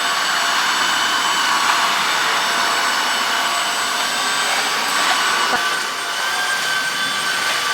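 A robot vacuum and mop runs in auto mode at home, making a continuous, fairly loud whining hum of motor and suction that holds steady throughout, with no voices over it.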